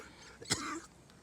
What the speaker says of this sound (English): He's got a little cough, so I'll let him finish the cough.